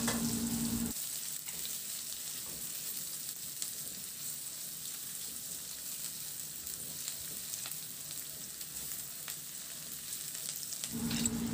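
Garlic sizzling steadily in a hot pan for Filipino ginataang pork liempo, a constant bright crackle with louder scraping stirs at the start and end, no voices.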